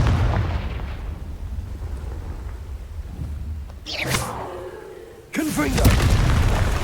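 Confringo fire spell explosions in the video game Hogwarts Legacy, with two booming blasts and crackling bursts rising over a constant rumbling battle bed, loud and close with voices mixed into the din.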